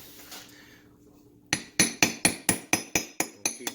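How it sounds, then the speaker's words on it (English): A hammer taps a large socket into a motorized bicycle engine, striking in a steady run of about nine sharp metallic blows after a quiet start. "take a big socket that basically matches, you know, the outside diameter here, and you can tap it in with a hammer."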